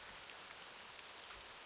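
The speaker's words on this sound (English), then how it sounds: "there is something about the rain coming down, but typically I rather have it not raining in the game" Rain falling in the fantasy video game World of Warcraft, a soft continuous hiss of steady drops on surfaces, faint and even throughout with no voices.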